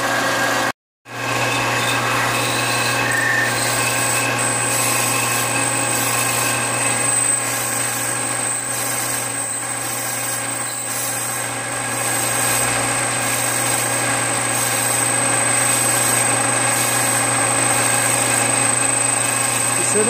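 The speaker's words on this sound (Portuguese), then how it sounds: "você não pode forçar muito a broca nessa hora. Tem que ir bem devagarzinho, décimo por décimo" Drill slowly boring into part of an electric fan motor for an XR3, a steady continuous motor drone that holds nearly constant throughout after a brief cut near the start, close and loud.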